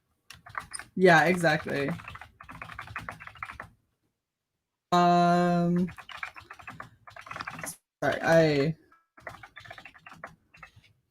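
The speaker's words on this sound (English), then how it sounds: "I'm typing to people." Fingers type on a computer keyboard in quick clattering bursts, heard between and beneath stretches of close conversational talking.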